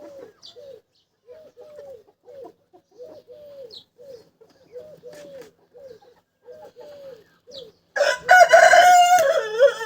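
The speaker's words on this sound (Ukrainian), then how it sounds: "Так що такі мої вже півники, курочки вже величенькі." Chickens cluck softly in short repeated calls, then a rooster crows loudly and close near the end.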